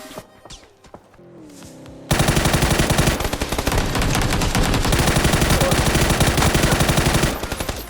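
Automatic gunfire sprays in long, loud rapid bursts from an enemy in a first-person shooter game, following a quieter opening with scattered game sounds, with no one talking.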